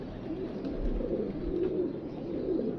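Soft, low pigeon cooing repeats over a steady background murmur, close by and fairly faint.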